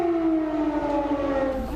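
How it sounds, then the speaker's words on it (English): A civil defense siren blares in a long, steady wail with a slowly falling pitch, loud and continuous across the whole stretch, with no voices over it. "Viewers have been shown video of emergency sirens blaring."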